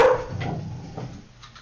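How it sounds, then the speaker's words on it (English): A pet dog gives one sharp, fairly loud bark indoors, followed by a faint low trailing sound and quiet room noise. "My dog's barking."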